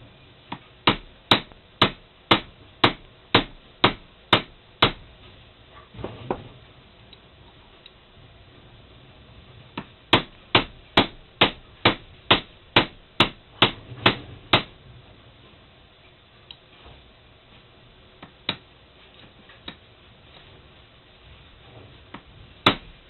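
Metal-on-metal hammer strikes from a 3/4 inch pipe driven against an assembly on a concrete floor, coming in steady rapid bursts of about ten blows each with short pauses between, then a few scattered hits, loud and close with no talk.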